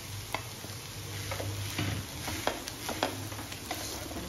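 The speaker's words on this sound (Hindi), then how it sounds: "अब हमने ये जो आलू रखे थे ये डाल देंगे इसमें।" Potatoes for a beetroot veg kebab are tipped into a frying pan and stirred, giving a low sizzle with a few scattered scrapes and clicks over a few seconds.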